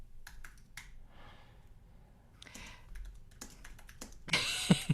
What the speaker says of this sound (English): Do you hear me typing?